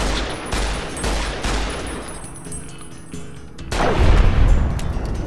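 Weapon testing in the Fallout New Vegas video game sets off loud repeated gunfire in bursts, with rapid shots and heavier booms building to a louder volley toward the end, and no speech.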